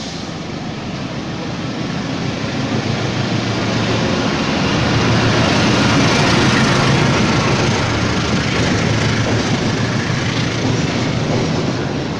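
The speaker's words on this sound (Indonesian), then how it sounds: "hati-hati jalur 1 kereta barat langsung" A train passes through Jatinegara station in Jakarta, Indonesia, as a steady, dense roar of wheels and rumble that swells slightly toward the middle and holds loud for the whole stretch, with no voices.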